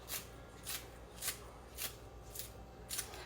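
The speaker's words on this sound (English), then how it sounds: "something else I want to do is some of these green onions. Okay? So I'm just going to cut some of those up" Green onions are cut up with a knife at a kitchen counter, six evenly spaced soft chopping strokes, crisp and close, with no talk.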